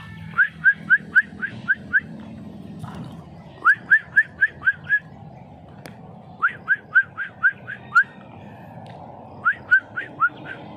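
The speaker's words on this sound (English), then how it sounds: "I'll try to whistle, and then let's see what's the reaction of those tiny little birds" A person whistles to hatchling birds in a nest on a Ficus bonsai, repeating bursts of quick rising whistled notes, about five or six per group, in four groups separated by short pauses against a quiet background.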